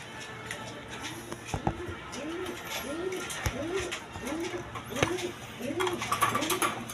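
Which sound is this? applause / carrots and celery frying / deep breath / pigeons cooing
pigeons cooing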